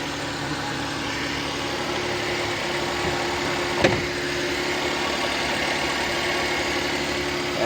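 A freshly overhauled engine idles steadily after being restarted, a constant mid-low running hum with one brief knock near the middle, close and moderately loud, with no voices.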